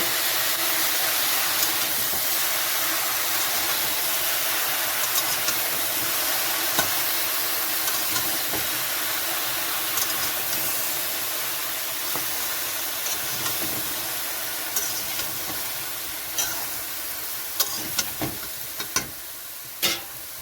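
Pieces of chalta (elephant apple) sizzle steadily and loudly in hot oil with panch phoron. The frying hiss continues unbroken, and scattered clicks from stirring grow more frequent toward the end.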